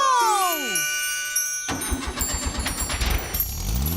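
A cartoon car's engine sputters to life after a falling magical sweep, then settles into a steady chugging, rattling run that continues to the end, close and fairly loud.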